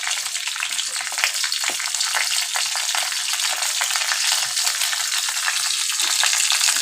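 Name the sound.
mustard seeds spluttering in hot oil, then chilli and cumin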